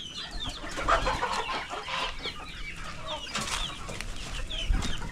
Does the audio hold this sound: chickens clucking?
yes